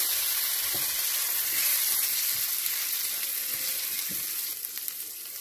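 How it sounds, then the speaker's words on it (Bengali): Cleaned prawns fry in a hot pan for a collards dish, giving a loud, dense, steady sizzling hiss close by, with a few faint stirring taps and a slight easing toward the end. "এবার পরিষ্কার করে রাখা চিংড়ি মাছটা ওর মধ্যে দিয়ে দেব।"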